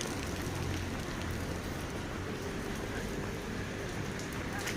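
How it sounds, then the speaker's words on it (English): Steady rain falls in Seville, a dense, even hiss of drops on surfaces that holds constant and fairly loud throughout with no voices. "But it's still raining now."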